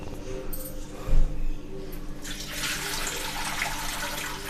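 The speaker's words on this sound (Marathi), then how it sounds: "वरईतलं पाणी ओतून घेते।" Rinse water poured off washed barnyard millet (varai), a soft handling bump, then a rushing, splashing pour building up and continuing to the end.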